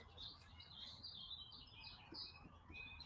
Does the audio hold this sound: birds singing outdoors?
yes